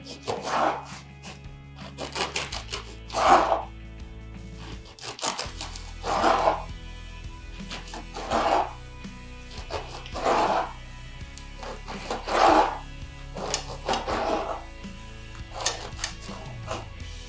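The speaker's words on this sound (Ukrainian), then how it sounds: "Потім нарізаємо хліб, в мене гречаний." A knife saws through a loaf of buckwheat bread in about eight steady back-and-forth strokes, each a close, dry rasping crunch separated by short pauses.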